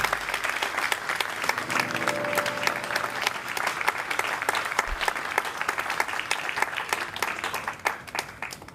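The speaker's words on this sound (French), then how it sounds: "Nous pouvons acclamer." An audience at an ordination ceremony claps continuously, dense crisp applause from a crowd that holds steady for several seconds before easing slightly at the end, with a brief low thump partway through.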